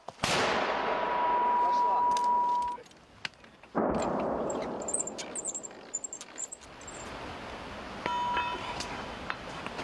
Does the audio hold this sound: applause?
no